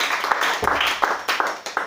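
A church congregation applauds during a worship service, bursts of clapping rising and falling in dense, fairly close waves with no voices standing out.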